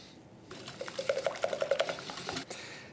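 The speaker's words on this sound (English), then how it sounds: "Just whisk that in, along with 1/4 teaspoon of salt." Rapid rhythmic whisking as granulated sugar and salt are beaten into cookie batter in a bowl, a steady run of close, light clicking strokes with no talk.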